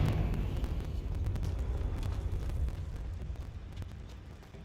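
A Confringo fire spell blast in Hogwarts Legacy lands as a muffled low boom that rumbles and slowly fades over a few seconds, with a few faint crackles.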